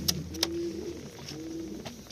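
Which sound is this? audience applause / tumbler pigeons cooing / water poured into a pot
tumbler pigeons cooing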